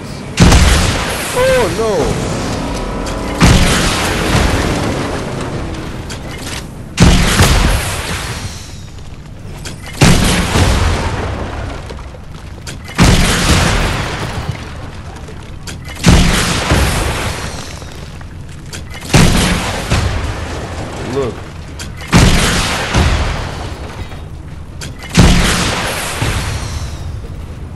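Gunfire and explosions from the video game Fortnite land as repeated loud booming bursts every few seconds through the scene, with a voice talking between and over them.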